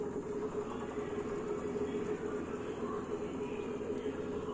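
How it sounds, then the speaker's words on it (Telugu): Mixer grinder whirring steadily as it grinds soaked rice into batter, a loud continuous motor drone with no pauses. "ఇలా మిక్సీ పట్టుకున్నాక"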